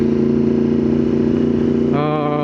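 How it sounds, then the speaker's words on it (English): A Yamaha motorcycle engine with an Akrapovič exhaust idles with a steady throbbing rumble, then the pitch jumps up as it revs, close and loud. "the Yamaha sound that it makes, quirky sound"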